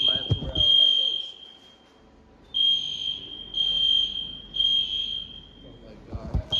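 A shrill electronic fire alarm beeps in repeated long pulses, with brief voices at the start and end.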